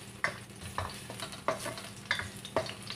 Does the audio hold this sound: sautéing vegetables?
yes